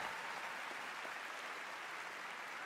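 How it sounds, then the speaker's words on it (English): An audience at the Game Awards applauds, a faint, steady wash of clapping heard from a distance that holds evenly throughout with no voices over it. "So please, a round of applause for them."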